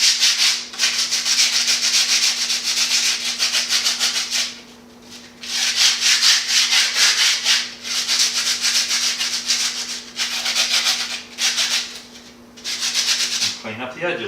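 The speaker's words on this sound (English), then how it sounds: "And for the bricks, the edges are a bit rougher, and I actually sand them." Rough brick edges are sanded by hand in long, steady scratchy strokes, repeated bursts with brief pauses, close and fairly loud, with a faint steady hum beneath.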